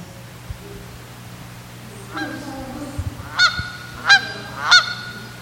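Loud, close honks of a Canada goose ring out in a few distinct calls that grow stronger toward the end, rising over a low steady hum.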